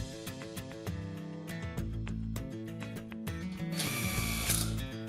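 Power drill driving a screw while a metal platform bed frame is assembled, a close, whirring motor with stuttering ratchet clicks and changing pitch, ending in a louder, strained burst as the screw seats.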